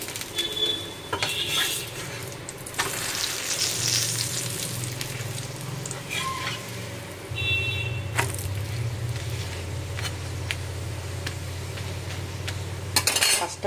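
Dahi paratha sizzles steadily in a pan of ghee mixed with white oil, with close metallic clinks and scrapes of a utensil against the pan and faint birdsong in the background; no one speaks.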